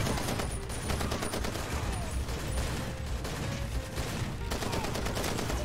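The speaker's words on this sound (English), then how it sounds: "He's going to town on that shotgun" Dense, continuous gunfire from a Far Cry 2 firefight, shotgun blasts among rapid overlapping shots and bursts, loud and sustained throughout with no pauses.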